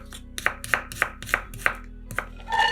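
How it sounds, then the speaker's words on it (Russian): An onion being diced with a knife on a board, a quick run of about eight crisp, close chops in fairly even rhythm, ending with a brief scrape or rustle. "Одну луковицу нарезаем кубиками."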